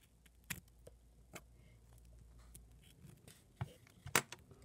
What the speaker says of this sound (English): I'm gonna cut the last end, and then I'm gonna cut these little pieces.